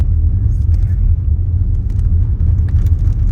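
Car driving along Southside Road in Yosemite National Park, a steady low road rumble and engine drone heard from inside the vehicle, continuous for the whole stretch with a faint voice murmuring over it.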